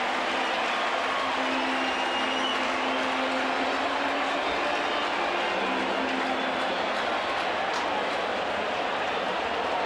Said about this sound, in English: some thunder here in the Cubs second has this Wrigley Field crowd roaring